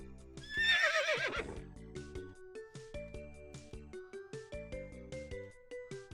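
A video-game horse neighs in a long whinny from an RPG Maker game, loud and alone near the start, followed by a steady plucked melody of game music.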